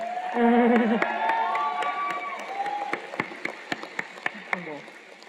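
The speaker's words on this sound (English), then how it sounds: "I'd like you all to give yourselves a round of applause" Graduates at a fall university commencement cheer and applaud, a broad crowd roar that follows a speaking voice and thins into scattered, distinct claps toward the end.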